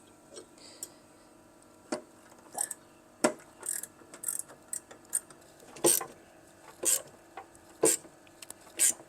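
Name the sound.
ratchet spanner turning on flaring tool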